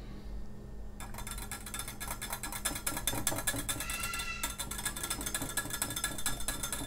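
Homemade body butter with cucumber stirred in a glass bowl, a steady run of fast scraping clicks and clinks from the utensil against glass, close and continuous, with no talking.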